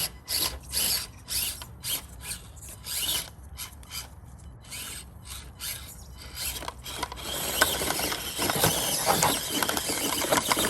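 An Axial SCX24 Chevrolet C-10 RC crawler on an indoor course whirs and grinds as its small motor and gears strain, first in choppy bursts, then in a sustained, rising mechanical rasp.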